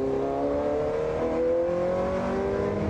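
A Ferrari F430 GT4 race car revs and accelerates in a steady, tonal engine whine whose pitch shifts as the power builds, heard close with no talking.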